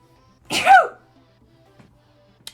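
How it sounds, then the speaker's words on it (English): A single close, loud human sneeze bursts out in an otherwise quiet indoor setting, followed by a faint small click and a tiny tap near the end. "I'm gonna sneeze."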